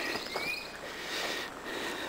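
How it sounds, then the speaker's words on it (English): Faint bird chirps and a thin whistled call drift in from a distance over soft outdoor background noise in the New Jersey Pine Barrens in June. "Listen to those birds."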